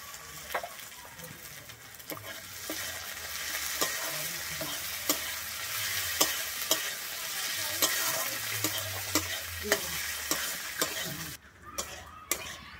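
Finely chopped tomato frying with onion and green chilli for restaurant-style palak paneer, a loud close sizzle broken by regular spoon scrapes and taps against the pan, stopping near the end.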